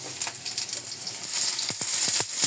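Onions and garlic fry in a hot pan with a bright, steady sizzle, and a few sharp clinks of a utensil near the end. Nobody talks over it.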